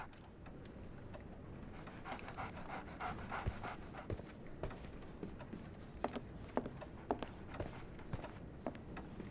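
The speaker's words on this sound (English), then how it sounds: "So, Barnes has a dog now." Dog panting in the Sherlock Holmes Awakened video game, rapid rhythmic breaths close by and fairly quiet, continuing steadily over soft ambient background noise with faint shuffling, and no talking.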